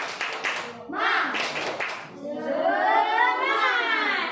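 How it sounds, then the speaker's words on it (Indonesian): A classroom of students claps for a presenting group, short bursts of clapping mixed with voices, followed by a drawn-out group chant or cheer. "kasih tepuk tangan untuk kelompok 3 dulu"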